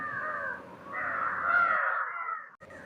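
Loud, close crows caw over a dry riverbank lined with trees, a few drawn-out harsh calls in quick succession before the chorus cuts off abruptly near the end.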